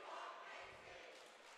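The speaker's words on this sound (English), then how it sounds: "Crowd cheering for Daniel Fitzmaurice to come in." A basketball crowd at a Notre Dame vs Alemany varsity game cheers in a dense, steady wash of noise, moderately loud throughout the short stretch.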